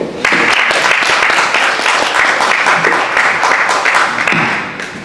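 A church conference audience gives a burst of applause, dense clapping from many hands starting abruptly and continuing steadily, then easing slightly near the end.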